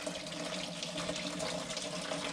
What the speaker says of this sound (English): Water is coming out of the tap in the kitchen.